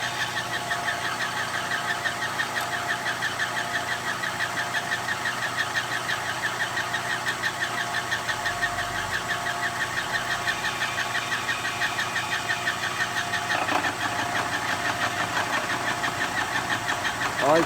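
A machine cuts splines on an axle, lining up on old existing splines, giving a steady, continuous mechanical whir with a faint ticking texture throughout, close and even in loudness, with no talk.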